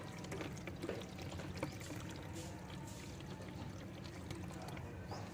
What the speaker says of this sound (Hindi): तो मैं इसमें डालती हूँ पानी।